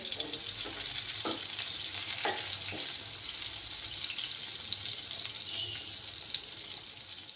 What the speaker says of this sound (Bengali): আমি যদি মানে গ্যাসের ফ্লেমটা কম করে রাখি তাহলে বেগুনগুলো একটু নেপিয়ে যাবে তার জন্য হাই আছে এগুলো ভাজতে হবে